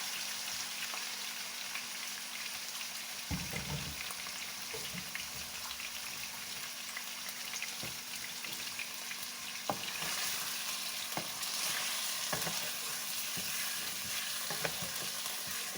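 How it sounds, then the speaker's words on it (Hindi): Chicken fries in a pan for a chicken and bottle gourd curry, a long, even, moderately quiet sizzle with occasional stirring knocks and scrapes and no speech. "अब मैं इसमें चिकन डाल दूँगी। और इसे फ्राई कर लूँगी।"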